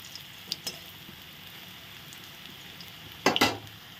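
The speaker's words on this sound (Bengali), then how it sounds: "এই বড়াগুলোও ভাজা হয়ে গেছে" Banana flower fritters (mochar bora) sizzle quietly in hot oil in a home kitchen, a soft steady crackle broken by a couple of brief clinks and a sharper burst of spattering near the end.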